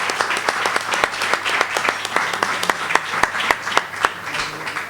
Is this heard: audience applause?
yes